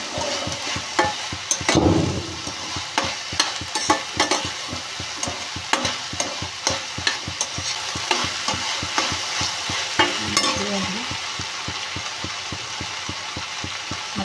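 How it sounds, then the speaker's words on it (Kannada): Okra stir-frying in a pan for a home-style palya, with a steady sizzle and repeated scraping stir strokes in a fast, regular rhythm, close and fairly loud, no voices. "ಇಲ್ಲಿ ಬೆಂಡೆಕಾಯಿ ಹುರ್ಕೊಂಡಿದ್ದೀನ ಅದು ಹಾಕ್ಕೊಳ್ತೀನಿ"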